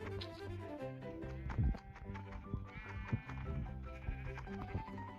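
Sheep in the video game Minecraft bleat a few times over looping game music and footsteps, short wavering cries at moderate volume.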